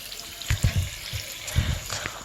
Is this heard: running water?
yes